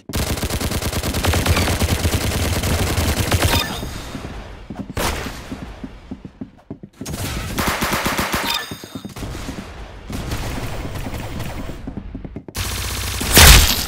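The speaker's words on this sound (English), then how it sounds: "Very good shooting." Rapid automatic gunfire from the Roblox game Arsenal, loud, dense bursts with brief pauses between volleys and a heavier blast near the end, no talking over it.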